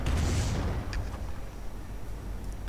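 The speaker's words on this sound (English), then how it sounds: "Calliope barrage is hitting the Panthers once more, and again one goes up in flames" Calliope rocket barrage slamming into Panther tanks in a World War II strategy game, with a dense rumble of blasts and booms, a sharp burst near the start, and steady explosive noise throughout.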